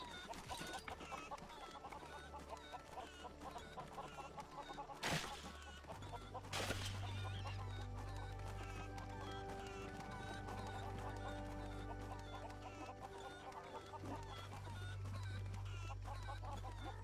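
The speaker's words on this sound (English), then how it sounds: "pigs and chickens." Chickens cluck in the video game Lego Worlds. Faint, scattered clucks sit over a quiet game ambience with light music tones and a couple of brief sharp clicks.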